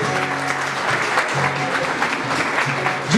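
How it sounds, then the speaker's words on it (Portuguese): Church congregation applauding together after a prayer, a steady dense wash of clapping with some low voices mixed in, holding level throughout. "Vamos aplaudir Jesus por isso?"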